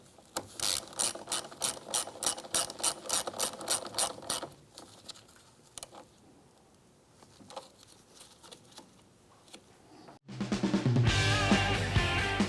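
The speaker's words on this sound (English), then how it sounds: "Reconnect the negative terminal with the 10mm socket." A ratchet with a 10mm socket tightens the negative battery terminal on a 2011-2016 Hyundai Elantra, giving rapid close clicking bursts in a steady rhythm before a pause and a louder, denser stretch of sound.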